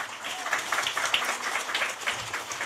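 A church congregation claps together during a Vietnamese sermon, producing a brief, moderately faint patter of applause that rises and falls without talk over it.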